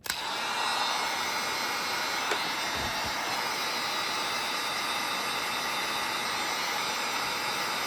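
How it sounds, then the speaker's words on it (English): Heat gun blowing hot air across plastic parts during a Huxter Labs SQUID assembly: a continuous, airy fan hiss and whine that holds steady throughout, close and alone. "The trick is to not hold the heat gun on any particular part of the plastic for any long period of time"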